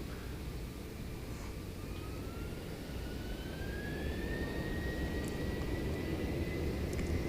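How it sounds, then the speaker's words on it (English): A Jin Air Boeing 737-800 jet arriving at Seoul Incheon Airport, its steady engine roar growing slightly louder, with a faint rising whine over the constant rumble. "Our next arrival is Flight 44 Jin Air coming from Panglao, 737-800."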